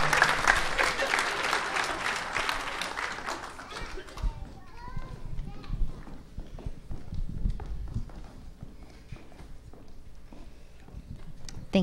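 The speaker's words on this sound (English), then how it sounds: "Let's give them a round of applause bringing them up to the stage" Applause from a festival audience at the Hopkins Raspberry Festival junior coronation stage, a dense broadband clatter for about four seconds that then thins into scattered claps and murmur.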